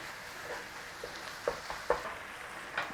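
Mince browning in a pan for a Cumberland pie: a soft, continuous sizzle with several short scraping stirs of a spoon, quiet and close.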